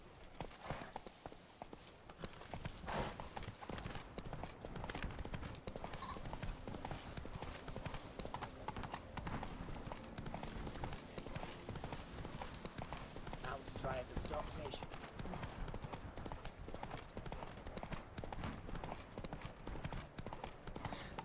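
Roach, the horse in The Witcher 3, clip-clops along with steady, rhythmic hoofbeats that are close and fairly quiet, continuing for about twenty seconds while someone talks over them.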